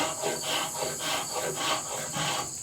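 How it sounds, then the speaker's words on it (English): An antique draw shave pulls fine shavings off a wooden handle in a steady run of close, rasping strokes, about five in quick succession, with no talking. "you can see it's pulling some really nice fine shavings, just like a spoke shave"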